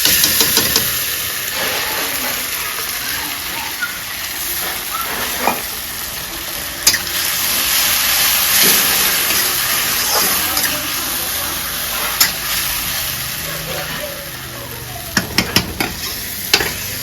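Ginger garlic paste sizzles loudly with onion and tomato that are already fried, cooking for a Bengali-style rohu fish curry with cauliflower; the steady hissing runs throughout, with stirring scrapes and several sharp utensil clinks near the end.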